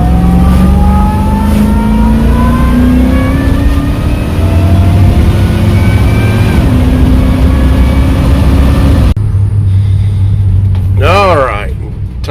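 A car fitted with a new Motion Raceworks throttle body drives steadily, its engine note climbing through the gears with a loud, continuous roar and wind rumble, ending in a brief whine near the end.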